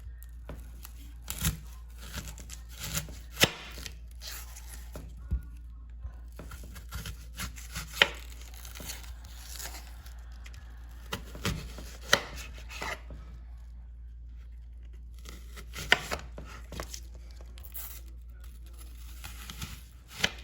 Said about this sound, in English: So let's get started on chopping up our onion.